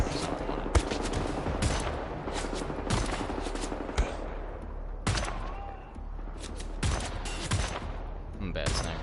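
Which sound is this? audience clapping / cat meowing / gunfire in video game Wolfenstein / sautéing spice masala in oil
gunfire in video game Wolfenstein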